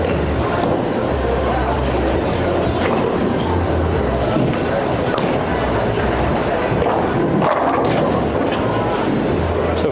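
Storm Journey clone bowling ball rolling down a lane, a loud continuous rumbling roar that holds steady throughout with a brief shift near the end as it hits the pins area.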